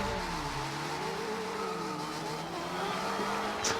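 A car in Forza Horizon 2 launches with a smoking start, its engine droning and rising in pitch in a steady, moderately loud game-audio tone with no talking.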